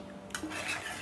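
A spoon scrapes and stirs through Mughlai chicken in a pan after kewra water is sprinkled in, a short close rubbing and clinking against the metal with a light sizzle, no talking.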